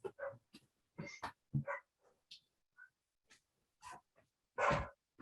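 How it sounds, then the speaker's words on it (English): Dogs barking from inside a dog house, a scattered run of short, fairly close barks and yelps with gaps between them, along with a few softer whimpers and breathy snorts. "Oh, right, dog barking."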